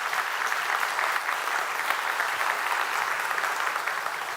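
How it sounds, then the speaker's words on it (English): Steady applause from an audience at a school district superintendent's meeting, greeting a group of cadets; dense, even clapping held at a constant level throughout. "Let's have a big round of applause for the cadets"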